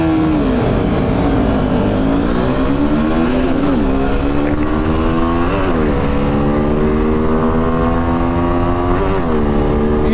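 Two stage 1 tuned motorcycles, an Aprilia Tuono 457 and a KTM RC390, accelerating hard through the gears, with a loud, close engine note that climbs steadily and drops briefly at each shift.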